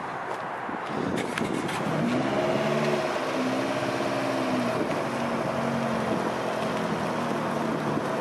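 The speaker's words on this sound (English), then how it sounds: "Now we're going to load the car." A car drives up the ramp into an enclosed car trailer. A steady engine hum rises into a moderate revving drone, then holds as the car creeps inside, fairly close with no voices.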